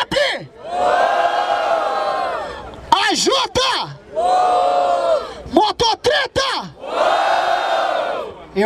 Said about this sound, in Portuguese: barulho pra quem gostou das rimas do rap